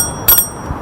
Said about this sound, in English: And then we also have a bell so that you're friendly with passing with the traffic.